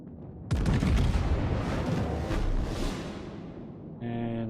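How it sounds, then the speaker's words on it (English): Heavy naval guns on a top-tier battleship, Wyoming, in World of Warships, firing as a sudden loud booming salvo that rolls and rumbles for several seconds before a tonal game cue sounds at the end. "Fire on the designated target."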